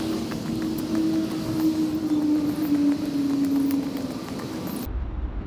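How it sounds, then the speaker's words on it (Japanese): Traffic on national Route 1 in Japan carries as a steady, distant rumble and hum of passing cars, heard from a quiet temple area along the old Tokaido road, with a faint engine drone running through before it cuts off near the end. "国道1号を行き交う 車の音が響いてくるのが逆に静かな感じでいいな"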